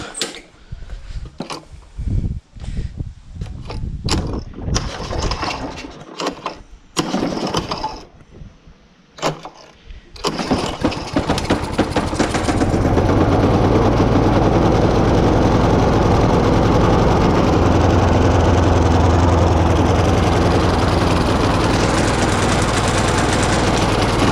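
Husqvarna lawn mower with its choke set: several sharp pull-cord tugs and sputters, then the engine catches and runs at a loud, steady roar close by.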